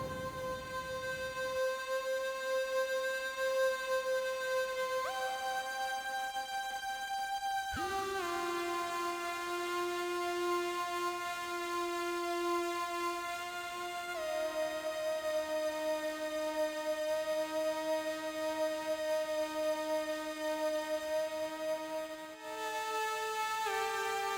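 Sustained synthesizer tones with a deep octave-lower layer beneath, shifting pitch every few seconds in a slow sequence of held notes.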